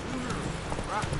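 Roach the horse trots along in The Witcher 3, steady clip-clop hoofbeats running under a voice throughout a short moment.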